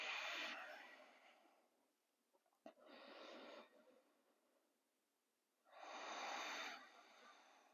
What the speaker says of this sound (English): Two more deep breaths here.